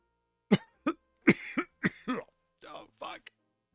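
A series of short, harsh coughs and throat-clearing noises, several in quick succession, close and fairly quiet.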